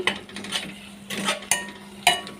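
Green chili paste and onions frying in a pan for an ivy gourd curry, with a steady soft sizzle under repeated scraping and clinking of a spoon stirring against the pan, and two sharp metallic knocks near the end.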